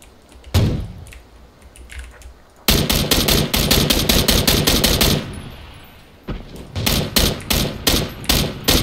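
Automatic rifle fire in PUBG: Battlegrounds comes in loud, rapid close-range bursts. A single shot opens, then a long sustained spray, a pause and another fast burst follow.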